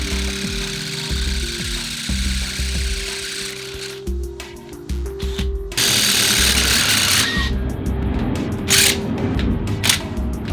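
Work on a custom Porsche with a Subaru EZ30R engine: a power drill whines and grinds with a drill bit against metal in start-stop bursts, its pitch rising as it bites, with clatter between runs.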